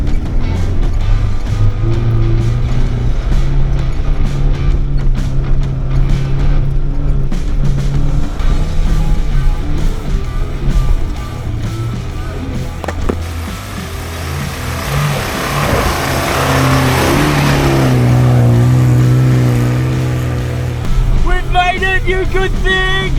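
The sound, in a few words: car engine driven flat out in second gear on snowy road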